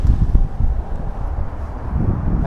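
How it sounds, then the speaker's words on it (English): Wind outside next to a parked car, a low blustery rumble buffeting the microphone in uneven gusts, fairly loud, with no talking. "it's a bit windy"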